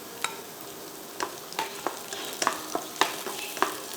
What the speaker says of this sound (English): Fry all this till they are fragrant.